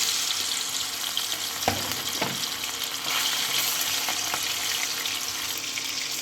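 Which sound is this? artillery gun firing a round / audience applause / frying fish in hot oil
frying fish in hot oil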